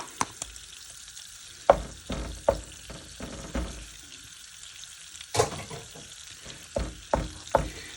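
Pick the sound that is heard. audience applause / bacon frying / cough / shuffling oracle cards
bacon frying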